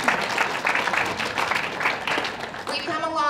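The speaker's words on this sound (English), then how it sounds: "give yourselves a round of applause" Students at an event with Iowa's governor applaud together, a continuous mass of clapping from a crowd lasting about three seconds, with a voice speaking over the end.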